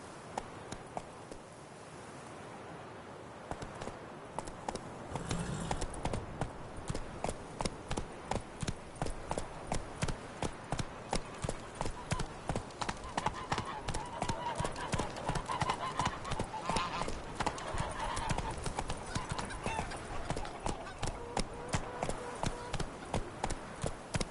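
Hooves of the horse Roach gallop steadily in The Witcher 3 video game, with rapid, rhythmic clip-clops that build after a few seconds and continue loud and close throughout, over a dense background of game sound.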